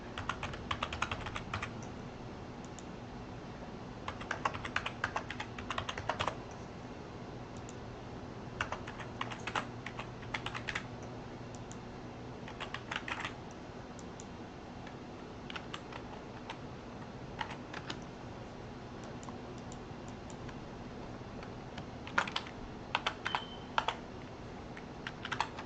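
Typing on a computer keyboard while phone numbers are entered into tax software, with steady clusters of key taps and short pauses between bursts over a quiet room hum, and nobody speaking.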